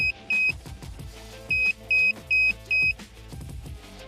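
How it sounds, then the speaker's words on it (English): Five short electronic beeps from a remote starter module in a Genesis G70 ring out, two then three in an uneven rhythm, over low background noise and faint clatter. "you're going to hear a few beeps"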